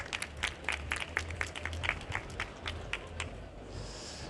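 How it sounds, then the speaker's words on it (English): A small audience at a conference garden stage gives a brief round of applause, with scattered, irregular claps at moderate distance that fade out after a few seconds. "Round of applause for eevie."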